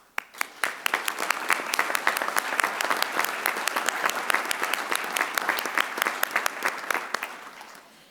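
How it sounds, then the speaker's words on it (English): An audience at a Madison Fire Department recruit graduation ceremony breaks into loud, sustained applause, many hands clapping together in a dense roar with sharp individual claps, swelling and then tapering off near the end. "please give yourselves all a round of applause"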